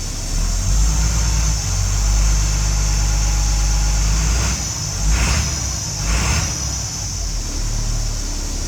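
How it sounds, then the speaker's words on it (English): A school bus engine with a custom exhaust idles loudly and steadily up close, hood open, with a few brief revs swelling near the end; the exhaust rumbles deep throughout. "we'll rev it up a little bit and see what it sounds like"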